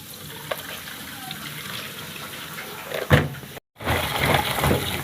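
Tap water runs steadily over crab being washed in a kitchen sink before cooking, a close, continuous splashing with a brief cut near the end, while a voice talks faintly.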